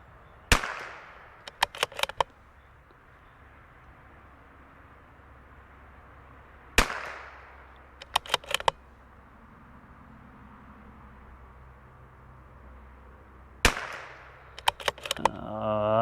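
A CZ 457 .22LR precision rifle fires three sharp, loud shots at targets, spaced several seconds apart, each followed by a quick cluster of crisp mechanical clicks against a quiet outdoor background.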